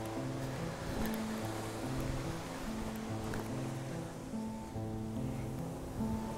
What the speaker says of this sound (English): you're here on the beach with me in Southern California